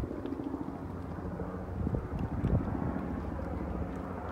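A helicopter passes near a picnic area along a scenic byway in the Black Hills of South Dakota: a low, steady rotor rumble that swells briefly, mixed with wind noise on the microphone.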